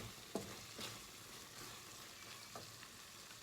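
Chilli paneer mix stirred and sizzling in a hot pan, a steady quiet fry hiss with a few soft scraping clicks of the spoon, close and alone.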